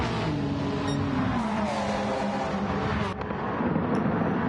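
Several race cars in Gran Turismo 7 roar together at Suzuka, with a Corvette C5 Z06 among them. Their engines hold a steady, loud drone throughout, and a faint squeal rises near the end.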